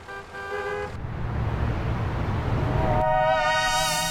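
Car horns honk amid busy Lagos, Nigeria road traffic, with a sustained horn blast, then a steady broadband rush of engines and road noise, then another long loud horn, close and dense.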